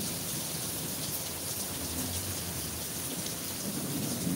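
Tropical Storm Grace in Jamaica, with heavy rain pouring steadily and close, a dense hiss broken by low rumbles of thunder underneath.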